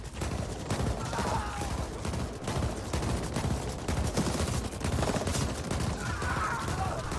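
Rapid gunfire from a shooter in the video game The Ascent, dense bursts of shots rattling almost without pause under a busy game soundscape, loud and close throughout.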